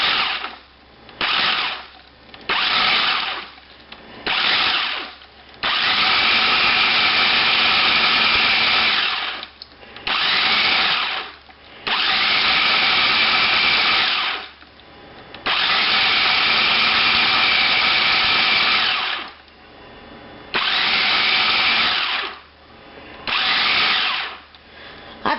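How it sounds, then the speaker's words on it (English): Food processor fitted with a chopping blade, chopping nuts in a home kitchen, running in loud pulsed bursts of varying length separated by short pauses, a harsh whirring motor drone with rattling pieces, alone without talk. "We've got the chopping blade in there, and we're going to chop them up."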